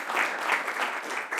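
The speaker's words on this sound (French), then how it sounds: "Je crois qu'on peut t'applaudir déjà." A municipal council meeting gives a short burst of steady applause for the fireworks team, a soft, even patter heard from a little distance with no one speaking over it.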